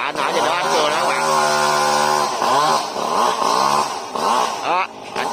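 A chainsaw roars loudly nearby, cutting branches and the top of a milkwood pine tree tangled with power lines, its engine pitch rising and falling repeatedly as it bogs down and revs through cuts, with short dips between.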